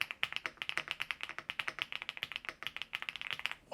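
Rapid, steady keystrokes on a heavy aluminium-shell computer keyboard, close and crisp, a dense run of clicky taps with no voices.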